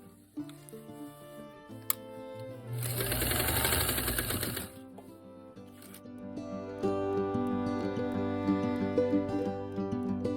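A domestic sewing machine quilting along a seam runs in one steady, whirring burst of about two seconds, over soft background music that plays throughout.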